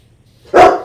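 A big dog in Powerwash Simulator gives one loud, close bark after a moment of near silence, ending in a short tail of sound.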